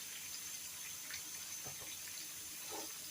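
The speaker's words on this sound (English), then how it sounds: "I need to get my water ready to make my gravy with." A kitchen tap runs water into a container while a cook readies liquid for chicken gravy, a steady hissing flow with a few small splashes, close and unbroken for a few seconds.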